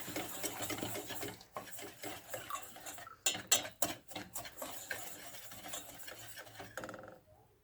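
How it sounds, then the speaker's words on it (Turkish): Egg yolk being whisked into cake batter in a bowl, quick scraping and rubbing strokes in uneven bursts, close and fairly quiet, fading out at the end. "Tekrardan karıştırıyorum arkadaşlar güzelce."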